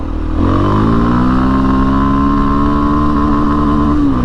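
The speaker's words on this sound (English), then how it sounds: "Let's try to do a burnout." A Kawasaki KLX230 dual sport motorcycle revs loud and close for a burnout, its engine note climbing and then holding high, droning steadily near the rev limiter.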